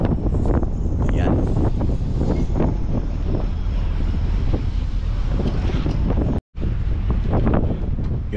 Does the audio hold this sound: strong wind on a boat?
yes